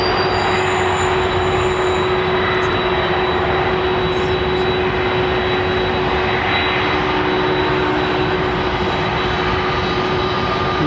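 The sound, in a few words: jet airliner taxiing at London Heathrow Airport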